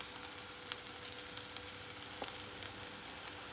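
Tomatoes frying in a hot pan for a chicken dish give a steady, close, bright sizzle that crackles evenly throughout, with no voices.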